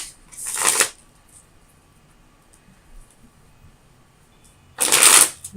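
A tarot card deck is shuffled in two close, crisp bursts, one at the start and one near the end, with near silence in between.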